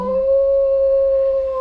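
A single wolf howls on a hillside in one long, steady, clear tone, loud and sustained with a slight rise at the start, heard alone.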